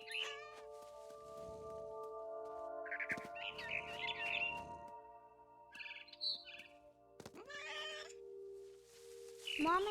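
A cat meows amid chirping birds in the video game What Remains of Edith Finch, with steady background music tones running underneath several short mews.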